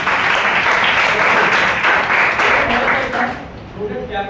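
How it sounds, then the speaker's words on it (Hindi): Workshop audience applauding in a training hall, steady dense clapping that tapers off near the end as a voice resumes. "सोनू जी एक बार जोरदार तालियां"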